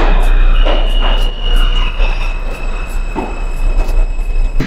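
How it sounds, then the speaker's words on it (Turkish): New York subway train running loud and close, a steady rumble of wheels on rails with a sustained high metallic whine and rhythmic clacks over the track joints. "Çünkü buradaki metrolar gerçekten korkunç."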